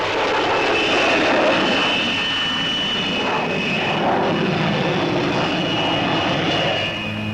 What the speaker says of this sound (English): The Armstrong-Whitworth Sea Hawk is a single-seat carrier-borne fighter-bomber powered by a Rolls-Royce Nene jet.